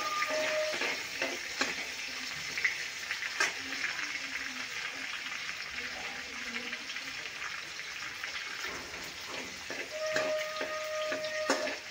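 Green chillies frying in hot oil, giving a continuous crackling sizzle with scattered pops and light stirring clatter throughout.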